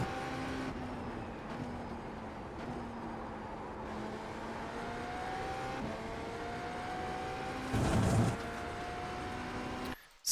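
A GTP prototype race car in iRacing runs at full speed through the turn 2 to turn 3 section at Canadian Tire Motorsports Park. Its engine drones steadily with slowly rising pitch, briefly swells in a burst near the end, then cuts off.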